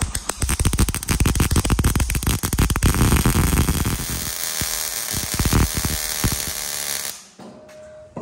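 A big weld being laid on a car body during a mod build, heard as a loud, steady crackling buzz that goes on for about seven seconds and then cuts off, with no talking.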